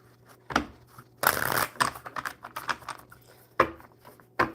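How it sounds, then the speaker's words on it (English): Playing cards being shuffled, a few separate bursts of crisp riffling and snapping close to the microphone, with quiet pauses between them. "One more good shuffle."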